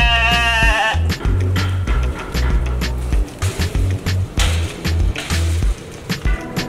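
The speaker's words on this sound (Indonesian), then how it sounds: "Domba, ini ada domba Garut, gak tahu domba apa." A Garut sheep bleats in a quavering cry near the start, followed by repeated thumping and knocking noises at close range.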